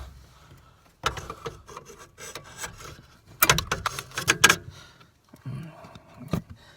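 A yellow retaining clip is pried out of a clutch pedal assembly on a 1995 Ford Ranger, giving a run of close scraping, rubbing and clicking bursts with short pauses between them.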